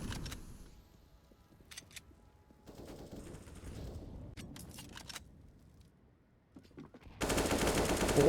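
Pistol fire from a round of Counter-Strike, Tech-9s and P250s on an eco round in a tournament match, a few scattered shots and brief bursts amid game ambience, ending in a loud dense volley.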